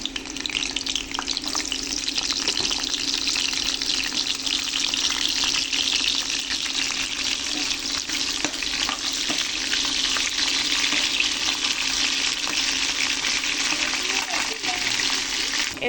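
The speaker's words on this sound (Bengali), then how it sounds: "তেল গরম হলে অবশ্যই শুটকিগুলো ভালো করে ভেজে নিতে হবে।" Dried khalisha fish fries in hot oil in a wok, giving a loud, dense, crackling sizzle that runs steadily without a break. A faint voice may sit underneath.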